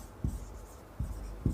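Writing while solving a math problem on polynomials produces three soft, close scratching strokes a little under a second apart, with no talk.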